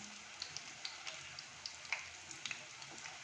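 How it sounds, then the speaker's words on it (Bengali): Puti fish pakoras fry in hot oil as they are flipped, a faint, even sizzle broken by small scattered pops and light spatula taps. "এবার পকোড়াগুলোকে আমি একটু উল্টিয়ে দিচ্ছি।"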